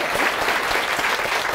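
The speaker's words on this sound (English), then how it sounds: "let's have a round of applause for our speakers." Loud, dense applause from an audience at a rail transit research talk, many hands clapping at once in a continuous close wash of sound, with no voices over it.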